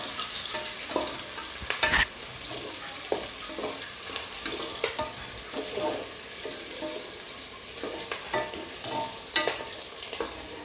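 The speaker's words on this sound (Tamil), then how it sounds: "ஸோ நல்லா வெங்காயம் வதங்கட்டும்." Onions frying in a pan for mint biryani crackle steadily up close, with repeated scraping and clattering strokes of a spoon stirring them throughout.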